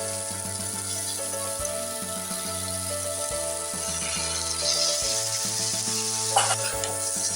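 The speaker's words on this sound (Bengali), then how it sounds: "আমি ভালো করে চাউমিনটা মিক্স করে নিয়ে মিনিট 2 মতো ভেজে নেব" Vegetable chow mein sizzling and being stirred in a hot pan, a steady close frying hiss with scraping and tossing, under continuous background music.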